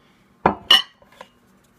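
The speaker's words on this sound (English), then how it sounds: "Add your dry ingredients to your wet ingredients and" A spoon clinks in a bowl as dry and wet ingredients for peanut butter banana dog treats are stirred together, two close sharp knocks followed by a couple of softer taps, with no talk.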